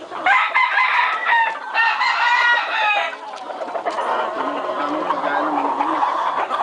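Chickens cluck busily at close range while a rooster crows loudly over them, the flock's chatter continuing steadily afterward.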